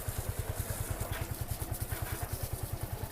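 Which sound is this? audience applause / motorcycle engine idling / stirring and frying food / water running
motorcycle engine idling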